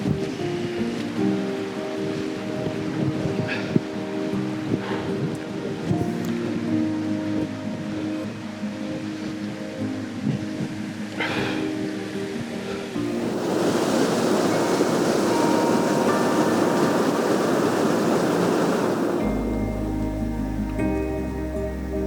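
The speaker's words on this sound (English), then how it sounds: "it's a good little waterfall. It's quite powerful, it's quite loud" A powerful waterfall pours into a river swimming hole in Belmont, Wellington, a steady broadband roar of rushing water that swells louder partway through and stays constant with no voices.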